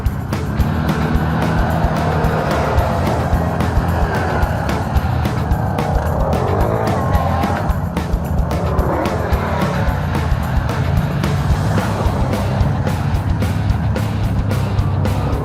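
A 2015 Yamaha Grizzly 700 ATV riding along a trail, its engine a continuous close drone with revs rising and falling, and no voices.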